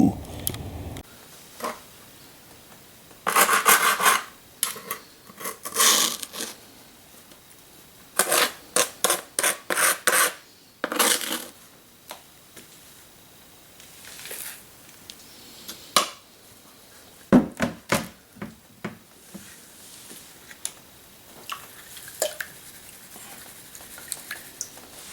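Gold panning of rerun tailings from a pail, with bursts of wet gritty swishing and sloshing in a pan, along with scattered knocks and scrapes, fairly close, and quieter gaps in between.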